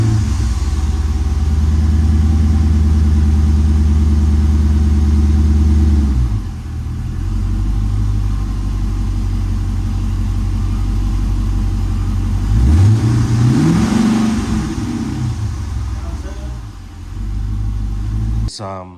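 A car engine runs on a shop lift, a loud, steady low drone that dips, then climbs through a sharp rev before settling back to idle.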